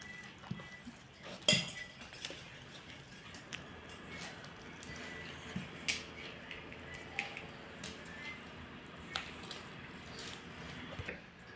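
Bread pakora batter is stirred in a bowl with light clinks and scrapes of a utensil against the dish, soft and close, with occasional sharper taps.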